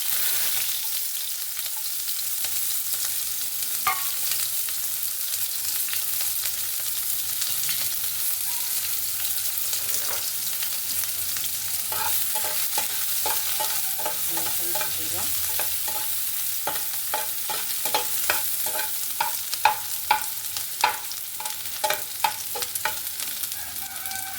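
Green chilies and chopped onion frying in hot mustard oil in a pan, with steady loud sizzling throughout and scraping stirs of a spatula that grow busier toward the end.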